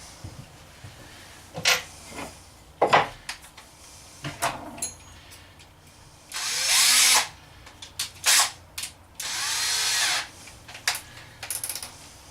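A power drill drives fasteners into a wardrobe cabinet brace inside a DIY travel trailer build, firing in short repeated bursts with two longer, louder runs, and clicks and knocks of handling between them.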